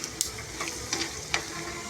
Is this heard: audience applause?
no